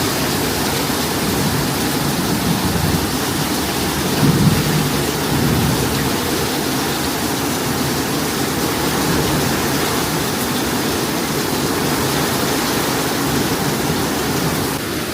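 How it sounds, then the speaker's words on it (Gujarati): Heavy rain pours down in a constant, dense roar that never lets up, with no voices. "અહીંયા તમે જોઈ શકો છો જબરજસ્ત વરસાદ ચાલુ થઈ ગયો છે"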